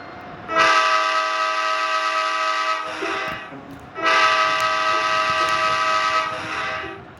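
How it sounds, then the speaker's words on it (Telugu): A train in the mobile game Indian Bike Driving 3D sounds two long, loud synthetic horn blasts, each lasting about two and a half seconds with a short gap between them. No one speaks. "ట్రైన్ యాక్చువల్గా మూవ్ అవుతుంది"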